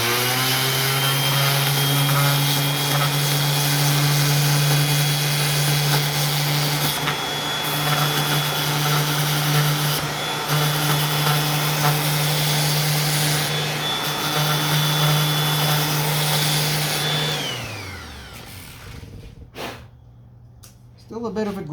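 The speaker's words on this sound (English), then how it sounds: "Now my sander has a speed adjustment, and I'll bring that down to about 4." An electric sander set to a lower speed grinds the lip off a wooden door frame, a steady loud whine with a strong low hum running for about seventeen seconds before winding down, followed by quieter handling noises.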